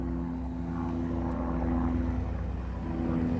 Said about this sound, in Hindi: तो कोई हेलीकॉप्टर है, शोर मचाता हुआ जा रहा है।